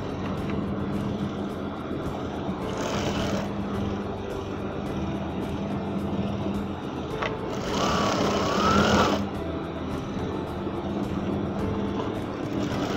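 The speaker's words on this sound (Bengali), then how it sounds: "এই যে চাপ সেলাইটা দেব" A sewing machine stitches a Punjabi garment, its motor whirring in two short loud bursts over a low background hum, with a faint squeal in the second run.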